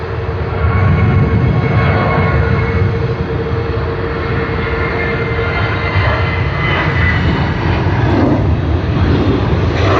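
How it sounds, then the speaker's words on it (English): A Virgin Australia airliner takes off at Sydney Airport, its jet engines producing a loud, continuous broadband roar that holds steady at close-to-moderate distance for the whole stretch, with no speech. "Wonderful, nice and simple takeoff."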